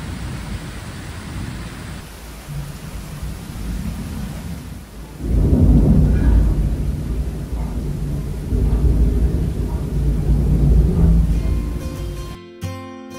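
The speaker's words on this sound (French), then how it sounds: "on a surtout regardé les orages impressionnants de fin de journée" A seaside thunderstorm at the end of the day, with a steady hiss of rain and a deep rolling thunderclap swelling midway and rumbling on for several seconds, loud and close, without any voices.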